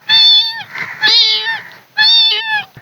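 A man mimics a kitten meowing, giving three short, high, nasal mews in a quick uneven sequence, loud and close with no other sounds.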